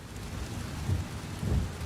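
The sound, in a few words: rain and thunder in flight simulator video game, Boeing 757-300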